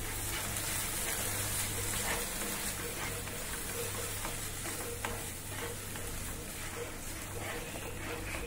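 Hot milk is stirred into poppy seed and almond kheer in a pan, a continuous scraping and bubbling sizzle with steady spoon strokes and a low hum behind it.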